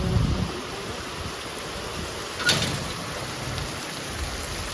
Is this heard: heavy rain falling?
yes